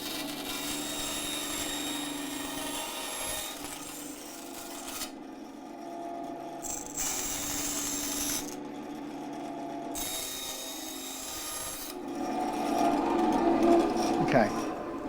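A bandsaw cutting a chunky acrylic guitar body for a Dan Armstrong copy, a steady raspy grinding hum with pauses between passes and a louder, rougher cut toward the end.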